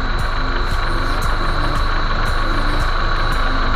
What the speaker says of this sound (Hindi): इंजन की आवाज़ आप सुन सकते हैं